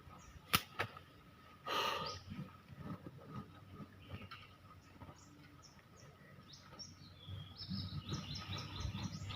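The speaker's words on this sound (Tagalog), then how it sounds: "Pinawaran tayo ng ibon." Small birds chirp with short, high tweets scattered through the clip, more frequent toward the end, heard outdoors over faint rustling and a few sharp knocks.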